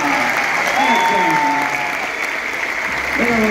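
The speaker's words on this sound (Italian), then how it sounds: "facciamo un applauso a Maria" Steady audience applause at a charity event in Italy, loud and dense throughout, with a few voices calling and talking over the clapping.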